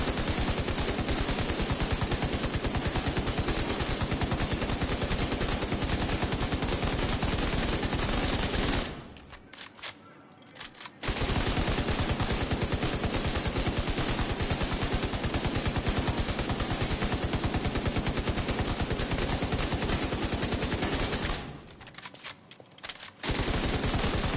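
Automatic gunfire in The Division 2 rattles in long, loud, continuous bursts, broken by two short pauses before the shooting resumes.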